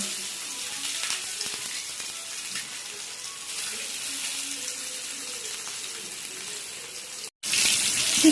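Basmati rice fries in a pan with a steady, close hiss and sizzle that runs nearly unbroken, cut by a brief drop just before the end, when the sound comes back louder.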